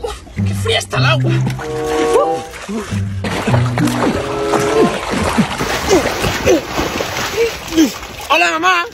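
Children splashing and playing in cold water at home, with sloshing and splatter running under excited Spanish-speaking voices and shouts throughout.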